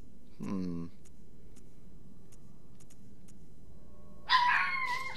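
A dog in Bloodborne barks and howls in a short burst at the start, with a second harsh, higher burst near the end. Both are heard faintly over a low, steady game background.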